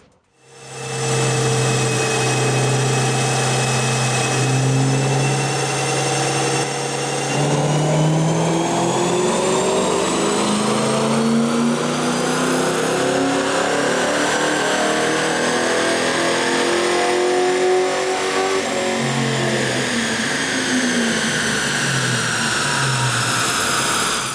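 A 2003 Ford Mustang GT with 227K miles roars on a chassis dyno, its loud engine climbing steadily through the revs in one sustained pull, then dropping back and rising again with a rising whine over continuous exhaust drone.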